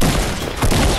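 Rapid automatic gunfire in a Fortnite-style shooter, a loud, dense burst of overlapping shots that runs the full second without pause.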